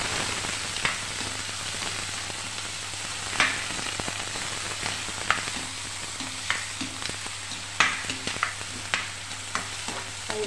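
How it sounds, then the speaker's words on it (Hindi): Onions sizzle and fry steadily in a pan with cumin, broken by scraping stir strokes every second or so, close and moderately loud with no talking. "और इसमें डाल देंगे प्याज डाल देंगे इसमें इसमें थोड़ा चला लेंगे भून लेंगे।"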